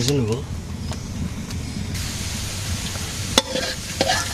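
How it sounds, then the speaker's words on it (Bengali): Potatoes frying in a pan: a steady, close sizzle and hiss with scraping stir sounds and a few sharp knocks of a utensil against the pan. "আলু ভাজি হয়ে গেছে"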